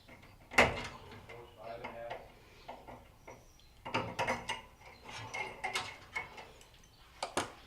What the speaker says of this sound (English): unplug it and then unplug the connectors to the magnetron thermostat